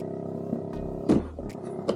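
A 12V portable fridge gives off a low, steady buzzing hum with vibration, continuous and close, with a few small knocks and clicks over it.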